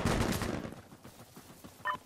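Gunfire from Insurgency Sandstorm: a loud burst of shots at the start that trails off into a fading echo, then a brief sharp electronic blip near the end.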